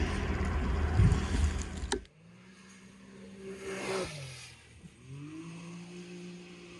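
A car driven at full throttle on a dirt track, its engine roaring loudly before cutting off abruptly, then a quieter engine note rising and falling with shifting pitch and wind noise.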